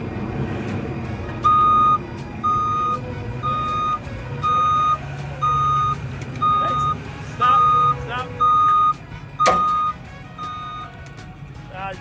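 A flatbed tow truck reverses during a winch-out recovery in wet ground, its reversing alarm beeping in a steady, evenly spaced run over a low diesel engine rumble, with voices and a sharp clank partway through.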